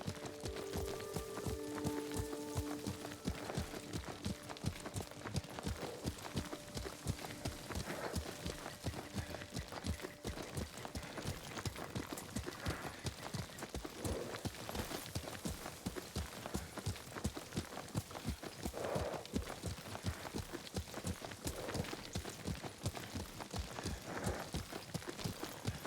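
Horse hooves pound in a fast, steady galloping rhythm, continuous and close, with a faint tonal hum early on, from the video game Ghost of Tsushima.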